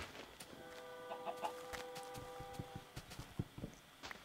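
A Minecraft chicken clucks in a short run of soft, fairly faint calls over a background of quiet game noises.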